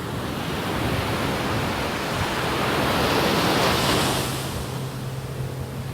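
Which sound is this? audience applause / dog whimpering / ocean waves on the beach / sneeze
ocean waves on the beach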